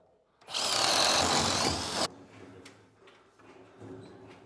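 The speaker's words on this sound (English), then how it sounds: "So I'm just going to drill this" A power drill whirs loudly for about a second and a half, boring steadily through a wall's wooden top plate, then cuts off, leaving faint handling clatter and room noise.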